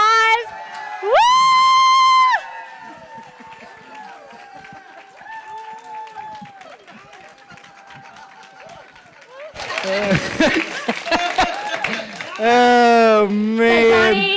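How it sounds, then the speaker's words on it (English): Church congregation cheering, whooping and clapping for Pastor Johnny, a loud burst of crowd noise and shouts rising near the end after quieter stretches of voices and tones. "you guys give him a round of applause"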